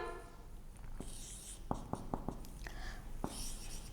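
Chalk or marker strokes on a board during a chemistry lecture: a run of short, crisp taps and scrapes, several in quick succession, close and fairly quiet, with no talking.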